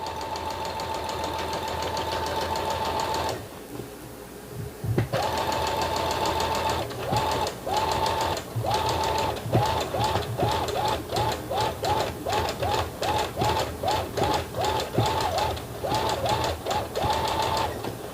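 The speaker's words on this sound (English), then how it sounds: "I like to pulse the sewing machine when I'm going on a curve" A sewing machine stitching fabric along a curve runs in short pulsed bursts of rapid stitching, stopping and starting after a brief pause, steady mechanical rattle close by.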